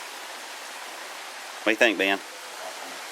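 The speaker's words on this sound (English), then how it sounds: "So that's that stream coming down" A stream of water flows steadily down beside a hiking trail in the Great Smoky Mountains, a constant soft hiss of running water with a brief spoken question partway through.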